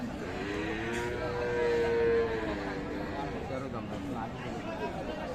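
Cattle at a rural livestock market, with a drawn-out moo rising above a busy crowd while people talk throughout.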